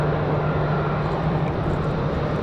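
A United Airlines airliner departing Raleigh-Durham International, its jet engines roaring loud and steady with a constant low drone throughout.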